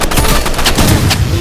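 Loud, dense bursts of gunfire from a shooter video game, overlapping cracks and rattling shots with a busy, noisy background.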